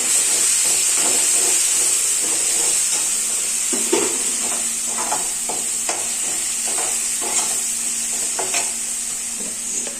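Two medium tomatoes sizzle and fry in a pan of chicken gravy, a steady close hiss running throughout with occasional stirring scrapes and bubbling pops, no voices.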